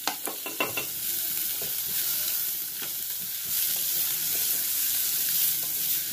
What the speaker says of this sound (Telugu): తర్వాత ఈ ఉల్లిపాయ వేగండి